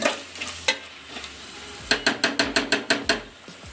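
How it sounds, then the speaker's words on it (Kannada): Chicken biryani ingredients frying in a pot, a quiet sizzle broken by a rapid run of sharp ladle taps and scrapes against the metal, close up and without speech. "ಅದು ಹೋಗೋವರೆಗೂ ಒಂದು 5 ನಿಮಿಷ ಫ್ರೈ ಮಾಡ್ಕೊಳ್ಳಿ."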